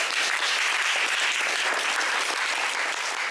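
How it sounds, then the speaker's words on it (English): Steady applause from an audience at a show's making-of gathering, dense and continuous clapping filling the room at even loudness throughout. "Give yourselves a round of applause for that."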